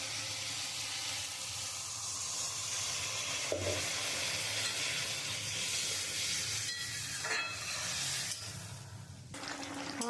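Water poured into a hot pan for a rohu fish and potato curry with peas gives a loud, steady hiss and sizzle that runs unbroken with no talking.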